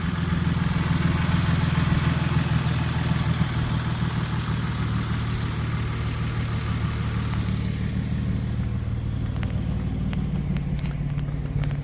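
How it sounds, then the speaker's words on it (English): A Nissan Xterra engine idles quietly and steadily for the whole stretch, a low, even rumble that stays close with no revs or talking over it. "the engine sounds really good. I mean, it's very, very quiet"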